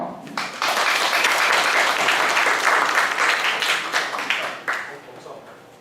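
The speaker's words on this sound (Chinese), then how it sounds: "来大家欢迎鼓掌" Applause from an audience welcoming company guests at a Sanyang Textile training event, a sustained dense clapping that swells quickly, holds steady for several seconds, then tapers off near the end.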